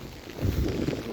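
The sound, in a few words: strong wind while walking in rain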